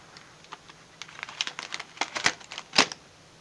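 Papery husk of a physalis fruit being pulled open by hand, a series of quiet, close, dry crinkles and crackles that come in irregular bursts, louder toward the end.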